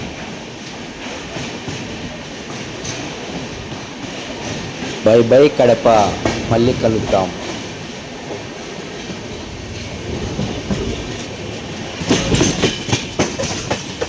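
MGR Chennai superfast express 12163 rolling along the track on the Tadipatri to Renigunta run, a steady loud rumble with clickety-clack wheel beats and brief surges, heard from on board with voices talking over it.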